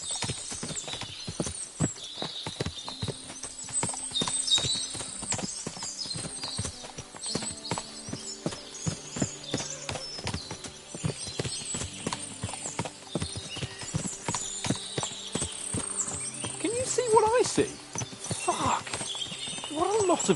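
Rhythmic clip-clop of horse hooves trotting along, steady and close, over soft background music, in the video game Kingdom Come: Deliverance II.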